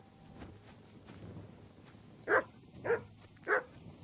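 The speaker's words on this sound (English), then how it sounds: "You're a good dog, buddy." In the video game Kingdom Come: Deliverance 2, a dog gives three short, evenly spaced barks over quiet outdoor ambience with faint insect chirping, and no one speaks.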